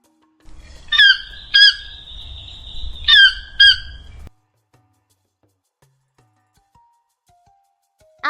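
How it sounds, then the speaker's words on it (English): A toucan gives a series of loud, harsh honking croaks, about four bursts spaced over three seconds, clear and close with no talk, then silence. "This is a toucan."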